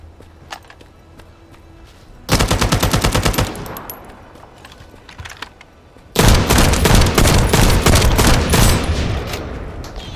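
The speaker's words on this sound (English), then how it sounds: "Stop the gunfire." Automatic weapon fire in the video game The First Descendant: a short rapid burst, a pause with scattered shots, then a longer loud sustained volley of machine-gun fire up close.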